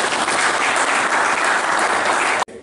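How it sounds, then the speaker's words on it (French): A crowd claps loudly and steadily at an outdoor dog working trial, a dense continuous burst of applause that cuts off abruptly near the end. "On peut l'applaudir."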